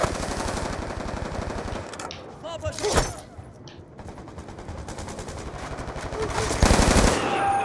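Sustained automatic gunfire from the Black Ops 2 video game on PS3 rattles continuously and loudly in rapid bursts, with a brief lull and a sharper blast near the middle, while voices shout over the shooting.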